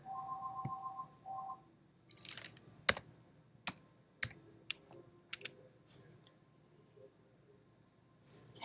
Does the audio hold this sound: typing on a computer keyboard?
yes